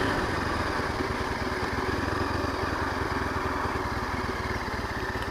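A Yezdi Adventure motorcycle engine idles steadily nearby with a low, even putter throughout, no one speaking.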